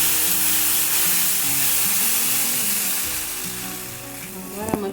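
Butter sizzles hard as it hits hot salted chocolate caramel, a steady loud frying hiss with some stirring, ending in a few quick scraping clicks.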